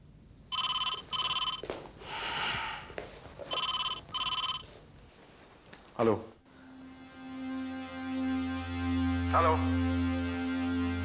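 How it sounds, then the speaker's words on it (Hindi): A telephone rings in repeated short bursts, then is picked up with a clunk, followed by a droning line tone. "किसका फोन था राज?"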